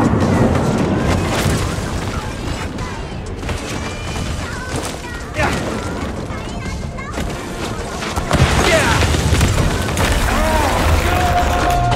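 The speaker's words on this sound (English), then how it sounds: "Gas blast for a little extra distance." Gas blast explosions in the first-person action game Shadow Warrior 3: dull booms and crashing debris within a dense, loud mix of game noise, with a voice talking over it.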